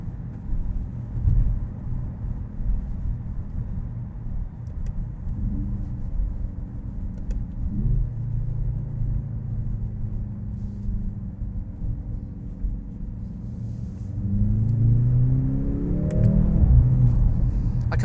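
A Mercedes-AMG GLC 63 S E Performance accelerates under manual gear control, a low steady engine rumble heard from inside with rising pitch sweeps as it pulls through gears, swelling louder toward the end.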